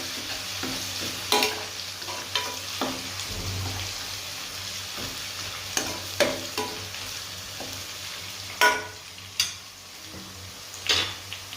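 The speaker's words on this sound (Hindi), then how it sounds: "थोड़ा इसको फ्राई करना है, इसका कलर थोड़ा चेंज हो जाए अदरक लहसुन का पेस्ट का" Ginger garlic paste sizzles steadily in a hot pan, a constant fizzy frying hiss with occasional sharp scrapes and stirring clatters, close by and without talk.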